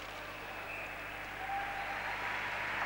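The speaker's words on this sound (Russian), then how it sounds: "Аплодисменты" Steady applause from the arena crowd at a 1996 World Cup hockey game between Canada and the USA, a continuous even wash of clapping holding for a few seconds at moderate level.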